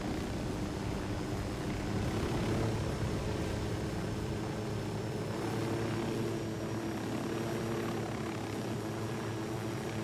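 Helicopter in the Ghost Recon Wildlands video game, a steady rotor and engine drone with a low throbbing hum that holds for the whole stretch at an even, fairly loud level.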